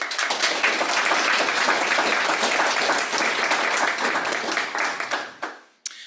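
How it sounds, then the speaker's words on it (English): Audience applause at a conference session, a steady dense wash of clapping that holds for several seconds and then fades out abruptly near the end. "So maybe a little applause."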